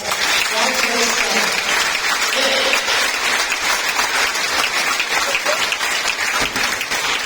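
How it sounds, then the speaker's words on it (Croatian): A stand-up comedy audience gives sustained, dense applause that stays loud and even across the whole stretch, with scattered voices mixed into the clapping. "Aplauz za vas."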